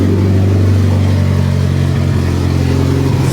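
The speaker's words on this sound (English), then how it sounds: "why is the exhaust so choppy if I have cams or anything like that?" Mitsubishi Evo 8 with an exhaust leak idling close by, its exhaust note loud, steady and choppy with an uneven low pulse throughout.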